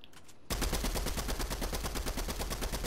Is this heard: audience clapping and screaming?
no